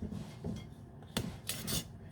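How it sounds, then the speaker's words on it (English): Palette knife scraping and clinking against a bowl while stirring grated cheese into savoury scone dough, quiet rubbing with a few sharper taps and scrapes close by. "Use a palette knife and my hands a little bit and just stir it through."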